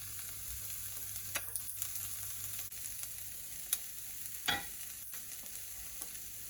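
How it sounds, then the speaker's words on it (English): Soft, steady sizzling of onions frying in a pan for pad thai, with occasional scrapes and clinks of stirring, quiet and close. "while your onions are frying"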